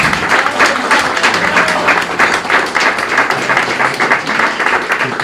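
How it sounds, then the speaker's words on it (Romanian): Audience applause for a classical guitarist honoured at an arts gala in Montreal, dense and loud with quick overlapping claps sustained throughout at close range. "Să-l aplaudăm, doamnelor și domnilor, pe Răzvan Beznea!"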